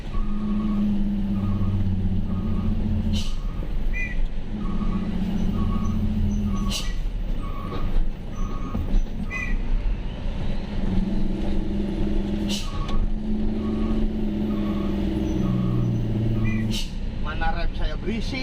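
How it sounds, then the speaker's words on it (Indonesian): A driver's vehicle rolling along a road at night in the Wonosobo forest, with recurring tonal squeals and a repeating beep-like chirp from its noisy brakes over a steady engine hum, while a voice talks throughout. "Suara remnya ya, berisik loh bro."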